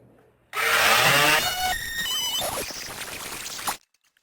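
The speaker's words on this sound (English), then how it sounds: "Now, just taking this sandpaper and I'm going to sand it" Sandpaper rubs across wood in a loud, continuous rasp lasting about three seconds, starting abruptly and cutting off just as sharply, with no one talking.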